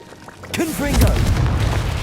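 Confringo blasting spell in Hogwarts Legacy: a deep, loud boom swells and rumbles away over about a second and a half, with a character's shouted spell voice just before it.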